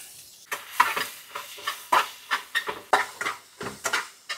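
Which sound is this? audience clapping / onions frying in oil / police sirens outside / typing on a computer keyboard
onions frying in oil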